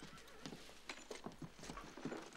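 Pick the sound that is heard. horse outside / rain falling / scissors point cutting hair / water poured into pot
horse outside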